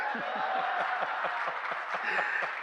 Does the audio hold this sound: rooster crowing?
no